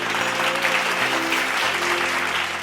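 Congregation applauding during a Tamil Sunday church service, a steady wash of clapping that fills the whole short stretch, with musical tones sustained underneath.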